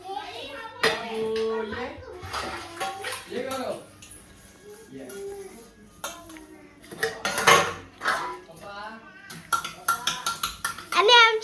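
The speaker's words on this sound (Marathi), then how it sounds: "मम्मी आता भांडी घासते" Dishes, pots and pans being scrubbed and washed at home, with metal utensils clinking and clattering in bursts while people talk nearby.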